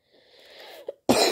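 A single cough from a person, loud and close, following a stretch of quieter breathy, hoarse vocal sounds and a small throat noise.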